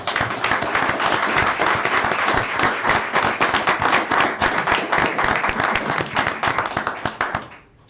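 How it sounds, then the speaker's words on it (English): A crowd at a city mayor and council meeting applauds loudly and steadily, dense clapping throughout before fading out at the end. "Let's give them a round of applause."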